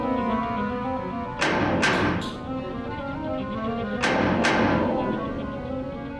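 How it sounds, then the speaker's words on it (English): Loud knocking on the hull of a spacecraft capsule, arriving as a quick group of three hard raps and then a pair of raps a couple of seconds later, over a steady low hum. "All of a sudden, he hears this knocking. It sounded like someone knocking at the door."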